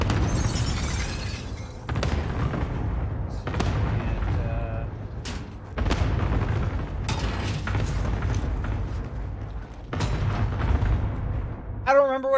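Repeated heavy airstrike blasts in Call of Duty, loud booming impacts arriving every couple of seconds with crackling debris, with speech underneath.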